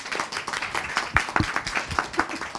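Audience at a Yörük association gathering claps after a recited verse of a poem, a brisk patter of handclaps with a few sharper individual claps standing out.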